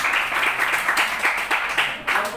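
Students in a classroom clap for a classmate, a quick rhythmic round of applause in fairly even pulses, close and moderately loud.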